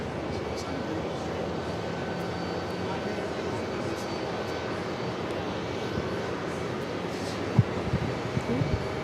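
Etihad airliner rolling on runway 23 right at JFK airport, a steady broad engine roar heard at a distance, with faint voices mixed into the background.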